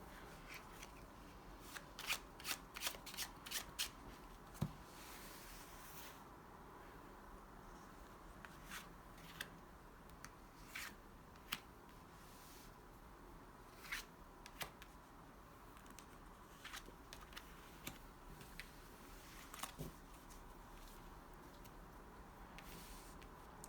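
Tarot cards being shuffled during a reading, with repeated soft riffling bursts and crisp card slaps that cluster early and then recur sporadically over a quiet background, close and fairly faint.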